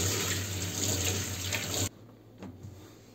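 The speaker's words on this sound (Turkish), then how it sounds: "Bezimi yıkayacağım." A running kitchen tap pours steadily into a sink as a cleaning cloth is rinsed under it, a loud continuous gush that cuts off abruptly, followed by faint drips and handling sounds.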